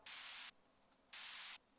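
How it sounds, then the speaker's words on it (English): Two bursts of bright synthesized white noise, each about half a second, separated by a short gap, loud and clean with nothing else underneath. "This is just literally just white noise and 3x oscillator."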